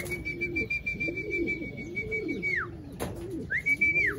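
Racing pigeons cooing in low rolling, repeated calls at close range, while a high steady whistle-like tone runs over them with a brief break.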